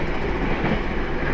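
Steady, loud rumble and rattle inside a KA Pandalungan passenger train carriage with weak sound insulation, a continuous clattering roar with no voices.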